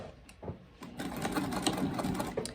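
A sewing machine stitches a leather clutch wallet with Tech 70 thread at a 4.5 mm stitch length, a close, rapid mechanical chatter that starts in short bursts and then runs steadily.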